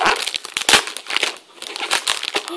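A large plastic-wrapped package of pink wrapping film is torn open up close, giving loud, continuous crinkling and crackling with brief pauses.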